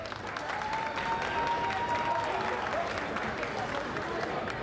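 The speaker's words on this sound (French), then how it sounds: "Merci, on peut l'applaudir encore." Sustained applause from a seated audience at a cosplay show, a steady dense patter of clapping throughout with faint crowd murmur beneath.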